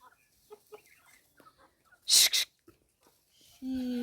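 A chicken lets out a sharp squawk, followed by a longer nasal call, with faint clucks and quiet rustling around it.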